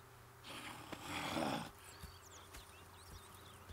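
A horse in the Red Dead Redemption 2 video game gives a breathy snort that swells and fades over about a second, followed by quiet ambience with soft birdsong chirping in the background.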